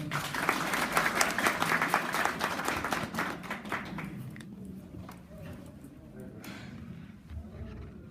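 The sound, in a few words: audience applause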